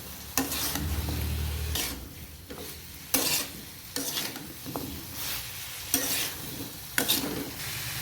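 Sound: stirring drumstick and potato curry in a pan

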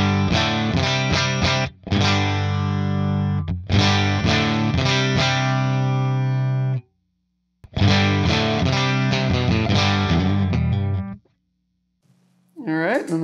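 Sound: electric guitar through UAFX Woodrow pedal, Marshall 4x12 V30 cab setting

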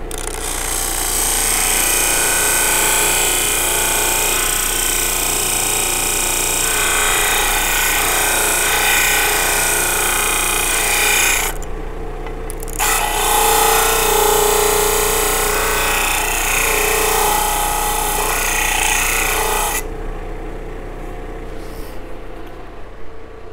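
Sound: sanding and shaping the wings of a ukulele bridge

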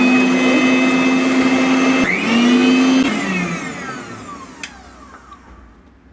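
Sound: electric mixer grinder running

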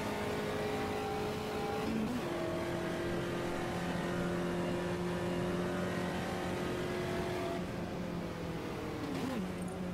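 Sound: Volkswagen Fusca race car engine in Automobilista video game

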